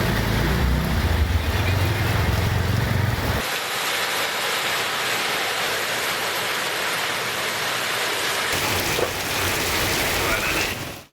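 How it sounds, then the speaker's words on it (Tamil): Heavy rain pouring down around Sivakasi in Tamil Nadu, a dense steady hiss of rainfall, loud and unbroken, with the texture shifting midway as if another shot begins, no talking. "அதிகாலை முதல் கனமழை பெய்து வருகிறது"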